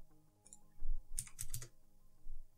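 Number being typed on a computer keyboard in Windows: several quick, crisp key clicks in a short burst, close and moderately loud, with no talking.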